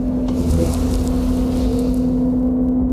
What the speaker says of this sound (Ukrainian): я чую, що оберти двигуна піднялися